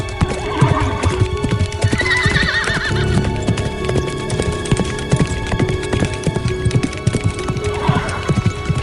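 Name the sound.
horse galloping and neighing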